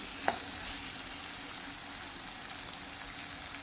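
Curry leaves drop into tomatoes softening in a hot pan for a rasa puri bhaji, giving a faint, steady sizzle with one small pop near the start.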